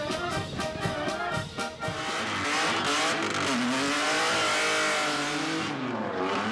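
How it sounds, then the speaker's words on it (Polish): Sports cars rev loudly at a car show at a school in Fordon, Bydgoszcz. Quick throttle blips give way to a sustained high engine wail whose pitch climbs and falls, with a faint tire squeal. "głośne i emocjonujące pokazy miłośników sportowych aut"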